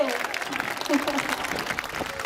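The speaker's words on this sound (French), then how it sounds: "on peut les applaudir" A crowd at an aquarium walrus show applauds in a dense, continuous wash of clapping, with voices mixed in beneath it.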